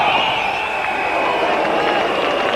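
Stadium crowd at a 1999 Cricket World Cup match between India and Australia, a broad sustained roar of cheering that stays loud and even from start to finish.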